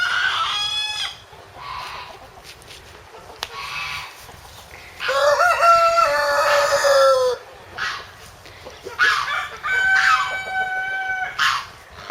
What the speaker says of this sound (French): d'adorables poules nègre-soie blanches